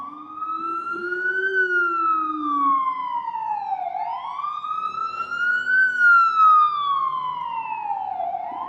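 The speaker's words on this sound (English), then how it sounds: "Oh, with the ambulance is behind me." A loud ambulance siren wails on a New York City street, its pitch sweeping slowly up and down in long cycles, close by and sounding alone.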